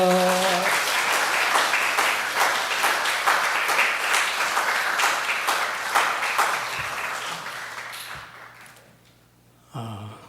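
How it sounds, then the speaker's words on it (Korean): A congregation at a Sunday church service applauds to welcome a speaker, dense steady clapping that fills the room, then thins out and fades to near silence before a brief sound at the end. "박수로 맞이하겠습니다"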